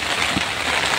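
Rain falls steadily during a harvest in a farm field, a dense, even wash of hiss with no distinct drops or voices, fairly loud and close.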